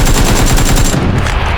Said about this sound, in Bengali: আমার দিকে ফায়ার করতেছে।